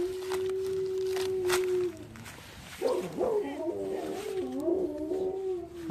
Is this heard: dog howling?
yes